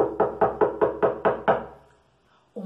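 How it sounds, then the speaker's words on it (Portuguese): Seven quick, hollow knocks sound on a castle door in a children's ghost story, then fall silent before one low thud closes the sequence. The knocks are close and clear, with no voices. "Quem ousa bater na nossa porta?"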